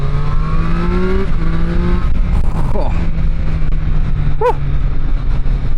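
Triumph Street Triple 765 RS Moto2 Edition motorcycle engine pulling hard through rising revs with a gear change partway, loud and continuous under wind rush, with a brief spoken exclamation.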